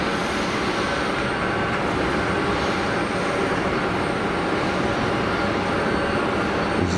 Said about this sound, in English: EasyJet over the fence.